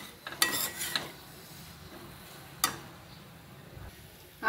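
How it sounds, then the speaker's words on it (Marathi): Coriander vegetable dish being stirred in a pan: a spatula scrapes and clinks against the metal a few times, with a brief clatter near the start and another sharp knock midway, over a faint low sizzle. "आता ह्याच्यामध्ये पण आपल्याला छान अशी परतून घ्यायची ही भाजी."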